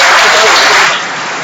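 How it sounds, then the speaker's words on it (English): An audience at a live tech talk session in Heartlands gives a round of applause, a loud dense wash of clapping and cheering that fades toward the end. "So round of applause to you!"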